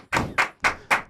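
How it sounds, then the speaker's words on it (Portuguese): Four separate, sharp hand claps land at an even, unhurried pace, loud and close, as a professor is welcomed onstage at an aquatic fitness talk, with no voices over them. "recebam com uma salva de palmas a professora doutora Renata Taverick"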